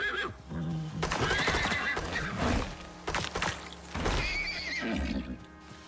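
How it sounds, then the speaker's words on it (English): A horse in the video game Icarus whinnies repeatedly in loud, close bursts over a few seconds, with clip-clopping hooves underneath. "Well, I just found a horsey."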